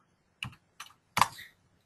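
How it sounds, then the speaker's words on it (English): Three quick clusters of keystrokes on a computer keyboard as a value is typed in, crisp and close against a quiet room, the last burst slightly longer. "so I have to type it in."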